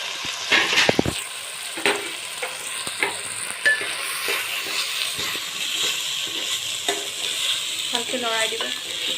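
Rice and peas fried in a pan for mutton pulao are stirred with scraping, clattering strokes over a continuous sizzle, the spoon knocks coming in irregular bursts close by.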